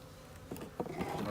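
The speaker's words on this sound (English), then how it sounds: "These are just bees, which is fine." Bees buzz softly around an experimental hive frame, a faint, close drone with a few brief louder passes as individual bees fly near.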